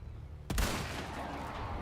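A single sharp pistol shot from Resident Evil 4 cracks out suddenly after a quiet moment, followed by a lingering echoing tail, with no speech.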